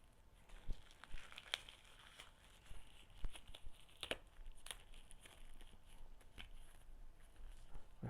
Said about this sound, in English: So let's go ahead and unwrap this.